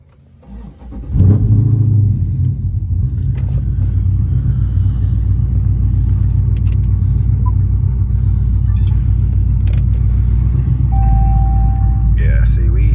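A Dodge Charger Scat Pack fitted with an E85 conversion kit fires up and settles into a loud, steady, deep idle rumble close by, continuing for the rest of the stretch.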